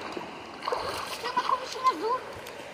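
Water splashes and sloshes as someone wades out of shallow water on a rural property, with soft irregular steps under nearby talking voices.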